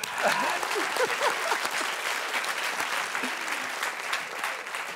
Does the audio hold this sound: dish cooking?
no